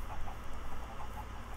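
Chickens in the Minecraft video game cluck inside a closed-circuit chicken processing contraption, a few faint, evenly spaced clucks over a steady low background hum.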